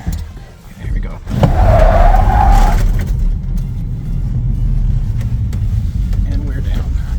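A Tesla electric car launches from 0 to 60 with its motor spinning the wheels, giving a brief rising whine or squeal early on, then a steady, loud road and tire roar for the rest of the run.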